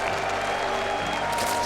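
A crowd applauds and cheers at a StarCraft 2 tournament semifinal, IEM Katowice 2016, for a player; the sustained roar of clapping carries under faint arena hum and a low background voice.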